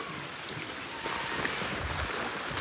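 Steady rain patters softly in the background, a continuous faint hiss with no voices.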